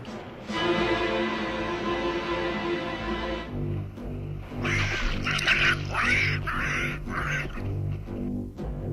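A cartoon parrot squawks loudly in a raspy, duck-like voice, first as one sustained call, then as a run of harsh, broken bursts.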